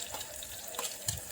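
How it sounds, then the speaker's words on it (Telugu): Onion pieces are stirred with a ladle in hot tempering oil for a capsicum curry, giving a soft, steady sizzle with faint scraping. "ఉల్లిపాయ ముక్కల్ని తాలింపులో కలిపి గరిటెతో తిప్పుకుంటూ ఉండండి"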